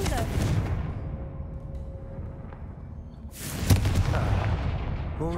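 A Confringo fire spell explodes in a Harry Potter video game: a deep booming blast that fades into a low rumble, then a second heavy burst, with no voice.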